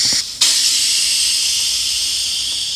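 Air hisses steadily from a nozzle filling the tube of a Piper PA-28 Cherokee tire on a Cleveland wheel: a short burst, a brief gap, then a loud, continuous close-up rush with no talk.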